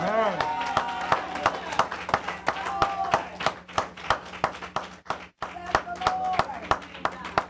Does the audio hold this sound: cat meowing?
no